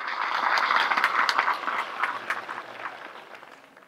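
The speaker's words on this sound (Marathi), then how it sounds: "समजत असेल तर एकदा जोरात टाळ्या झाल्या पाहिजे." A crowd at a satsang bursts into loud, dense clapping that swells at the start, then thins and fades toward the end.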